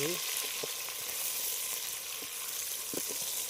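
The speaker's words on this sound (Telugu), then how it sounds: "ఇప్పుడైతే పచ్చిమిర్చి ఉల్లిపాయలు ఉడికిపోయి" Onions and green chillies fry in a pan at a forest campsite, giving a steady close sizzle with occasional stirring clinks, with no talk.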